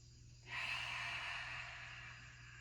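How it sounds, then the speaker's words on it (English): A deep breath in and out through the nose during a class, heard as a single close, soft airy rush that starts abruptly, then fades gradually as the exhale trails off. "Nice deep breath in. Expand that belly. Exhale through your nose."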